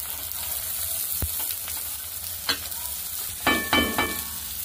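Chopped onion frying in a pan for veg manchurian, with a steady bright sizzle broken by a few louder scraping stirs toward the end, close and clear with no talking.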